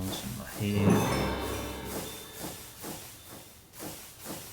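Steam engines in a modded Minecraft factory hiss out a loud burst, then give softer, regular puffs in a steady rhythm, with a voice faintly underneath.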